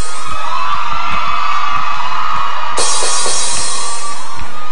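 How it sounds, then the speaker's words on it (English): A crowd cheering and clapping loudly throughout a university matriculation ceremony in Bayelsa, with scattered whoops and shouts rising over the steady roar of applause. "Please keep cheering them up."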